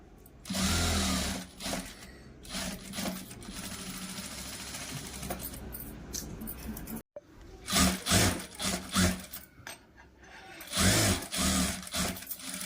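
A sewing machine stitches a blouse in several loud rattling runs, a continuous whir for several seconds, then a brief stop and shorter start-stop bursts of stitching.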